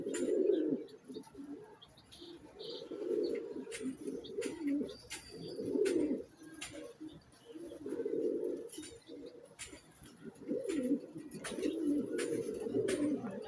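Napta breed pigeons coo in repeated low, rolling phrases close by, with occasional faint chirps and sharp clicks between the coos and no talk.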